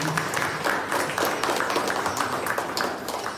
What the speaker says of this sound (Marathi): आम्ही सचिन सागरकर त्यांचा सत्कार करतो जोरदार टाळ्या